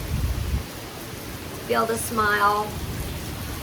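Rain falls in a steady, soft hiss on a rainy day, with a voice briefly speaking partway through over the patter.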